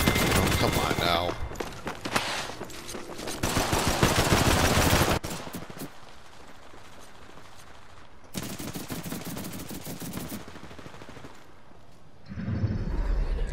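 Video game gunfire rattles in rapid automatic bursts, loud and dense at first, then quieter volleys return in stretches, with a player talking over the shooting.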